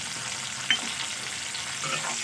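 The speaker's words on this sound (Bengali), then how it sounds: "এবার আমি ছিমগুলোকে ভেজে নেব। দিয়ে দেবো অল্প করে একটু লবণ আর হলুদ।" Flat beans (shim) fry in a pan with salt and turmeric, a loud, steady close-up sizzle with a brief stirring scrape, no talking.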